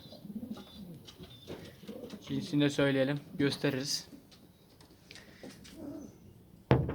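A caught stray homing pigeon cooing in short bursts close by, mixed in with someone talking over it.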